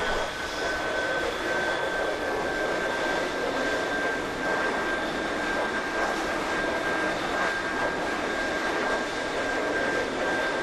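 Fighter jets taking off at Korat air base: steady, loud jet engine roar with a high whine, holding constant throughout with no talk.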